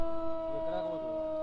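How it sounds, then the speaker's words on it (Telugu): An alert siren wails with a steady, sustained tone during a flood rescue, droning continuously with faint background voices beneath it. "alert siren"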